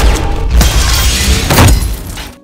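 A door shatters under gunfire during a gang fight scene in a Korean drama: loud crashing debris and breaking material fill the full span, with heavy thuds near the start and again mid-clip before fading out.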